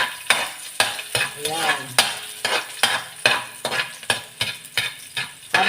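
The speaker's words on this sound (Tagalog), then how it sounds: "Habang nagigisa tayo guys" Garlic sautéing in a hot pan while vegetable pakbet is cooked, a close steady sizzle broken by repeated sharp scraping stirs of a utensil against the pan, with a brief spoken word.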